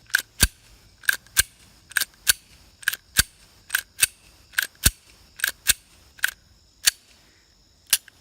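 A Glock 43 slide with a stainless recoil spring racked by hand, sharp metallic clacks repeating in quick pairs and singles, close and crisp against near silence.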